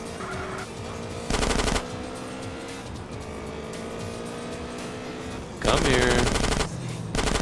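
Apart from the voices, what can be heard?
SMG gunfire in video game GTA San Andreas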